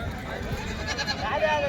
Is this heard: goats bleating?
yes